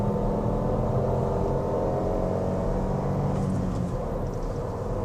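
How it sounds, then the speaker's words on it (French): Ford Fiesta Active with a 1.0 EcoBoost 100 hp engine and six-speed manual, pulling hard in second gear, heard from inside the cabin as a steady droning engine hum under road rumble. "Écoutez, petit bruit moteur"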